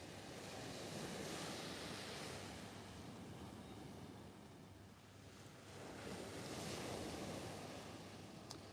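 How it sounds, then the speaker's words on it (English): Westerly wind gusting over the sea at a UK shore sea-fishing spot, with steady roaring wind noise buffeting the microphone and breaking surf rumbling underneath, swelling and easing throughout without any voices. "We've got a westerly wind today."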